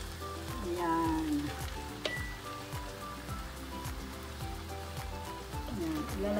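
Vegetables for egg noodles sizzle steadily in a hot pan while being stirred, a continuous frying hiss with occasional soft scrapes and clinks, close and moderately quiet, with no clear talk.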